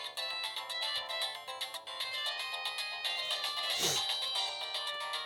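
A Samsung SGH-X450 mobile phone plays a bright, electronic ringtone melody of quick repeating notes, loud and close, with a brief rustle partway through.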